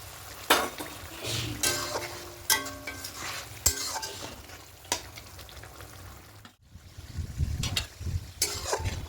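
Egg curry gravy with curd bubbling in a pan, a close sizzle broken by repeated sharp spoon-against-pan clinks and stirring, with a brief quiet gap before the bubbling resumes.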